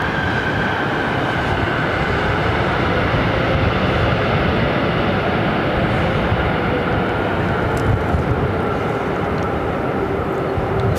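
A jet airliner landing at LAX airport, a steady, loud broadband roar that holds for the full stretch with a faint whine running through it, no voices.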